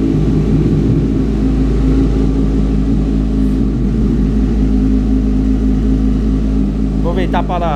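A 2012 Honda CB1000R 1000cc motorcycle with a weakening battery idles with a steady low engine rumble, close and continuous, with a brief higher burst near the end.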